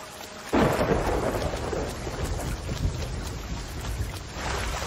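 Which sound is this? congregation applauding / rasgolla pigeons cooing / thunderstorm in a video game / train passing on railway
thunderstorm in a video game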